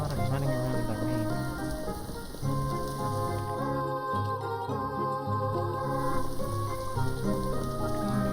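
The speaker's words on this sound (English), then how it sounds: "Just a lot of running around in the rain." Rain falls in the Little Goody Two Shoes video game as a soft, steady patter beneath a sustained musical soundtrack, fairly quiet throughout.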